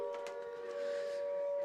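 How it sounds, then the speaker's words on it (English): An air raid siren sounds at a high school football field, one steady sustained wail holding a constant pitch, fairly faint and distant over crowd ambience. "The air raid siren goes off one more time here."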